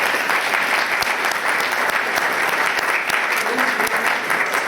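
Congregation at a Sunday church service breaks into loud, sustained applause, a dense, steady patter of many hands clapping with faint voices underneath.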